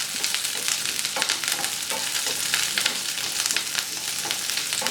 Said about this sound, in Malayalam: സവാള ചേർത്ത് വീണ്ടും നന്നായിട്ട് വഴറ്റി കൊടുക്കാം.